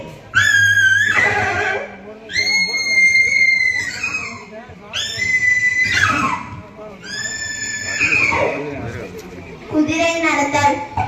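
A girl student's voice imitates a horse neighing, several loud, high whinnies with shaky, descending tails, repeated at roughly two-second intervals with short pauses between.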